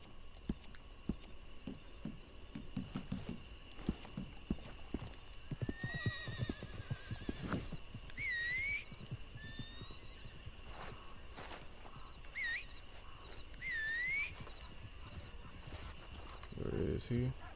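A Breton horse in the video game Red Dead Redemption 2 Online, hooves clip-clopping steadily on the ground, with several high whinnies and snorts in the middle and someone talking over it.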